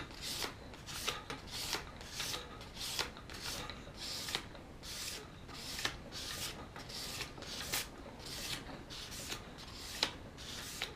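A razor blade rubbed back and forth across ordinary hardware-store sandpaper for sharpening, giving steady, close rasping strokes in an even rhythm that repeat through the whole stretch with no talking.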